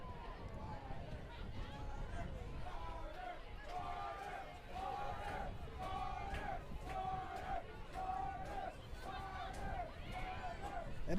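A packed crowd at a high school football game in a brand new stadium chants and cheers in rhythmic bursts, a steady, moderately distant wall of voices building toward the end.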